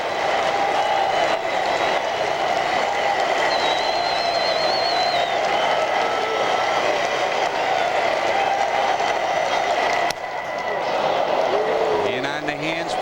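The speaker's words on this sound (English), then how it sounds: "Listen to the chant, listen to the clapping" Baseball stadium crowd at a Montreal Expos versus Cincinnati Reds game keeps up a steady, dense roar of clapping and chanting throughout, with a broadcaster talking over it.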